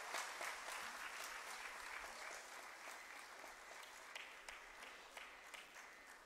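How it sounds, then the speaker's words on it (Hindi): Audience applause at a university convocation ceremony in Rohtak as medal winners are honoured, a steady distant wash of many hands clapping through the whole stretch, faint in level with no voices on top. "प्लीज तालियों को रोके नहीं"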